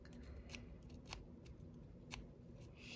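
Scissors snipping junk journal charm material, a handful of crisp, separate cuts spaced irregularly, close and quiet with faint handling noise between them.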